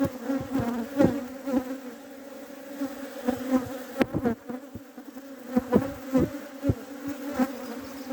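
Honey bees buzz steadily at an opened beehive during a spring hive inspection in Adana, a close, dense droning hum with individual bees flitting loudly past, accompanied by occasional handling knocks.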